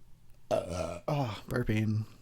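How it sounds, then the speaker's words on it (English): A person burps several times in a row, close and fairly loud, the belches drawn out and throaty with short gaps between them. "burping."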